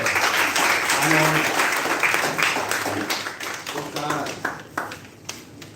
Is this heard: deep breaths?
no